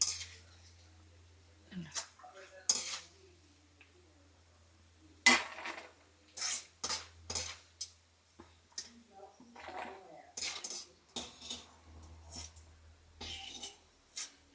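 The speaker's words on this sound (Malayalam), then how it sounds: "തേങ്ങാക്കൊത്ത് നല്ലതുപോലെ മൂത്ത് വന്നിട്ടുണ്ട് നമുക്ക് കോരിയെടുക്കാം" Fried coconut pieces are scooped out of a pan, heard as scattered metallic scrapes and clinks of a spoon against the cookware, close and fairly quiet, with gaps and faint low background noise between the strikes.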